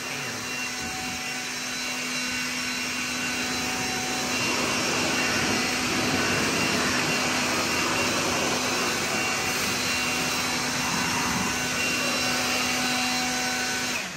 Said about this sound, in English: we'll continue to blow dry this engine bay